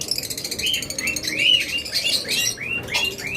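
A pair of lutino Fischer's lovebirds gives quick, sharp, high chirps in a rapid repeating series, close and clear.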